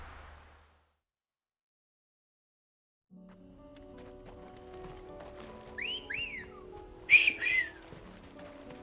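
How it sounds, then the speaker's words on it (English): A video-game whistle calling a chocobo sounds as two quick rising chirps followed by a sharper two-note call, heard clearly over soft game ambience after a brief silence. "that whistle will always sound like a cat call to me"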